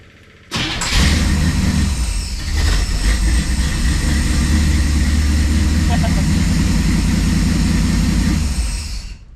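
A 1957 Chevy Bel Air engine starts abruptly and settles into a loud, steady high idle that runs continuously, with no speech over it.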